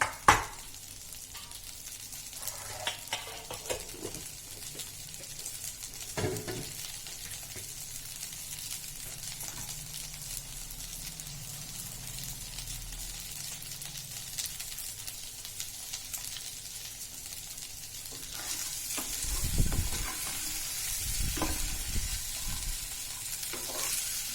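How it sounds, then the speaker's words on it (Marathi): Idli pieces frying in butter in a pan, giving a soft, steady sizzle with occasional stirring clatters and a louder spatter burst near the end, no talking. "पाच मिनटं बटरमध्ये फ्राय करूया छान"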